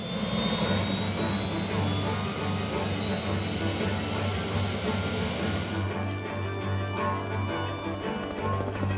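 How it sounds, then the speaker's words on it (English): Steady, loud helicopter engine and rotor drone airlifting baled Christmas trees, holding constant throughout, with a high whine that fades partway through. "Next, we bring a helicopter and fly them into waiting trucks."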